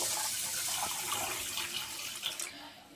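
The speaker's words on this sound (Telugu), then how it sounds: "ఇప్పుడైతే మనం వాటర్ పోసేసుకొని" Water is poured onto ration rice that has been washed four times, a continuous splashing gush that is loud and close, gradually easing toward the end, with no talking.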